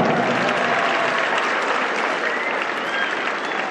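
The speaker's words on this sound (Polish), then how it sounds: "Brawa!" An audience greets a double Olympic champion at a school sports event with loud, continuous applause that holds steady throughout and has no speech over it.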